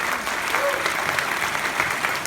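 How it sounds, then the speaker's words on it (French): A studio audience applauds steadily at a French television presentation, a dense, continuous wash of many hands clapping at close range, with a faint voice slipping in underneath. "on peut l'applaudir"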